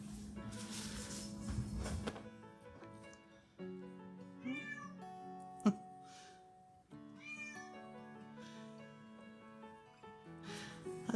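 An indoor pet cat meows repeatedly in the background, with several drawn-out, wavering cries spread across the stretch, fairly faint, alongside quiet room noise and a few soft clicks.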